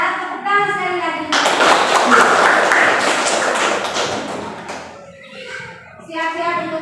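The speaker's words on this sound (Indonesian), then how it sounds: "Kalau tidak ada, tepuk tangan sekali lagi." A classroom of children claps together for a student group, a burst of rapid hand clapping that swells for a few seconds then tapers off, with a teacher's voice speaking before and after.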